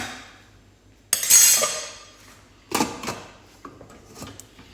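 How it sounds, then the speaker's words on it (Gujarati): A pressure cooker is set on a gas stove and its lid is closed: a sharp metallic clank, a second clatter a moment later, then a few lighter clicks, all close by with no talk. "પછી ગેસ ઉપર કુકર મૂકી દેવાનું. કુકર મૂકી અને પછી ઢાંકણું ઢાંકી દેવાનું."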